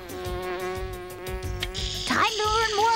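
A cartoon bee's steady insect-like buzz drones continuously in a rainforest setting, mixed with music and a rising sound effect toward the end.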